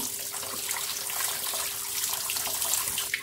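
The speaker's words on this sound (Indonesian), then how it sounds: "langsung saya akan siram dengan air" Cold water splashes from a tap over drained sago pearls in a strainer, a steady, close hissing stream of running water that continues without pause.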